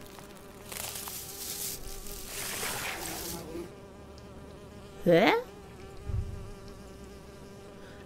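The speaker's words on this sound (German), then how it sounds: "Diese Wespen sind aggressiv." Aggressive wasps in the video game Grauen aus der Tiefe 3 drone with a thin, steady buzz beneath soft ambient music, and a brief voiced exclamation cuts in partway through.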